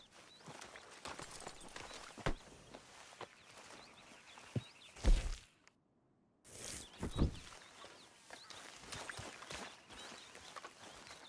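Horse hooves in the open-world game Red Dead Redemption 2 clop steadily and close by, with faint birdsong behind them. The sound cuts out briefly partway through, then the hoofbeats resume.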